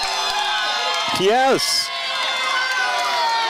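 Wiffle ball tournament fans react to a double at an outdoor game, with a crowd cheering and jeering and one voice rising in a whooping shout that slides in pitch, while a person says a word.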